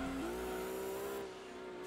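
Racing cars in the video game Gran Turismo 2, a steady high engine whine that shifts up in pitch early on, loud and continuous with no talk over it.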